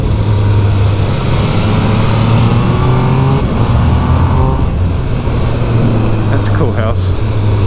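A 2023 Triumph Speed Triple RS 1200 motorcycle on the move, its engine humming steadily and loudly under rushing wind noise, with pitch shifting slightly as the throttle changes and a brief whine near the end.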